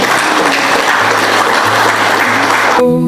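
Sustained applause from an audience at a teachers' association regional gathering in Aceh, steady dense clapping throughout that cuts off abruptly near the end as music begins.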